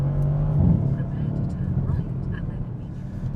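A Mercedes C63 S driving along a road, heard from inside as a low engine drone with a brief swell and a downshift burble early on, settling into a steady rumble of engine and road noise.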